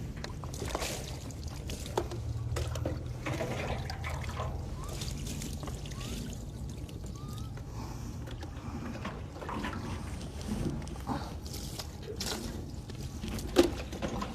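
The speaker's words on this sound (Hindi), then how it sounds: "ये 3 दफ़ा हम पानी इस तरह से बहा देंगे" Plain water is poured steadily over a body during ritual washing of the deceased, a continuous close splashing trickle running throughout with faint background voices.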